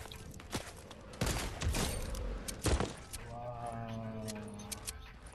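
Fortnite gunfire crackles in a few sharp bursts of shots at moderate level. Voices and other game noises run alongside, with a sustained tone near the end.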